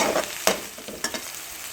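Crushed garlic and onions sizzle in a pan as a spatula stirs them, a steady frying hiss broken by a few sharp scraping strokes, close and fairly loud with no voices.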